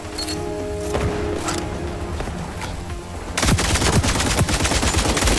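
Gunfire erupts in a shooter video game: scattered shots at first, then a dense burst of rapid, loud automatic fire in the final seconds, with no talking.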